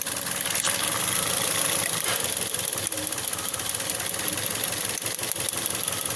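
A 2016 Toyota Vios third-generation engine idles roughly with misfires, a loud continuous mechanical rumble with uneven knocking pulses and shaking vibration, close up with no talking.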